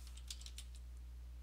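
Typing on a computer keyboard while naming a database file in SQL Server, a few soft, quick key clicks in a short burst over a steady low electrical hum, fairly faint and close.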